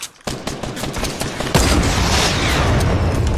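Loud, close gunfire from a Fortnite match: a fast run of sharp shots, then a heavier burst that keeps going as dense rapid fire, with no voices over it.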